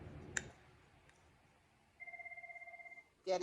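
A telephone rings once in a studio while a hand is being sculpted, a steady electronic warble lasting about a second, with a brief click before it and a sharp burst right after.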